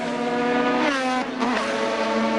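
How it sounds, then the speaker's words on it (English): A Jaguar GTP prototype race car from 1985 IMSA racing at Portland accelerates hard, its engine climbing in rising harmonic pitch, dipping at a shift around the middle, then surging on loud and close with no talk. "You can see the horsepower differential as the Jaguar pulls out and just rockets away."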